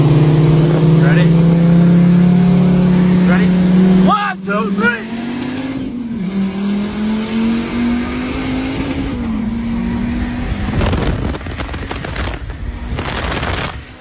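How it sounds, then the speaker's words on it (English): Heavily modified race cars, including fully built Honda Civics and a Dodge Viper ACR, scream past at full throttle with rising and falling engine pitch, loud near pass-bys and sharp gear changes. "you'll see two fully built Hondas easily beating a Viper ACR"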